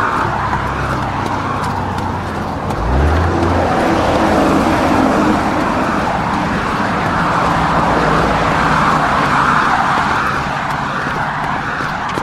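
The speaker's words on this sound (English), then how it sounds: "The good old sound of traffic." Steady road traffic with cars rolling past, a continuous broadband roar that swells and ebbs over about twelve seconds, fairly close and loud, with no talking.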